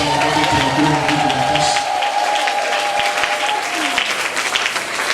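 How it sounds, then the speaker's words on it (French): A church congregation applauds loudly and steadily, a thick sustained roar of clapping with a held sung or voiced tone and some voices mixed in over the top. "S'ils sont là, qu'ils les acclament encore très fort."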